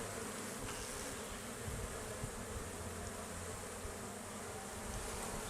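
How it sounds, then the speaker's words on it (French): A honeybee swarm, a colony collected the previous year and headed by a queen at least two years old, buzzes in a steady, dense drone at an open hive during an inspection. The sound is close, constant and unbroken, with no talk over it. "Donc ça c'est un essaim récupéré l'année passée."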